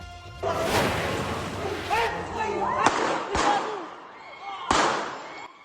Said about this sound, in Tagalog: Tatlong putok ng baril ang narinig sa cellphone video